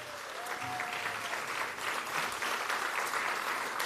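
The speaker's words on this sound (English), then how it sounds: "Please give our principals a round of applause." A crowd applauds school principals at a district event, a steady wash of clapping heard from a moderate distance and continuing evenly for the whole stretch.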